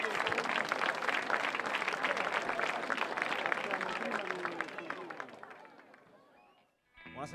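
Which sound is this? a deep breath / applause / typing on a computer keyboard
applause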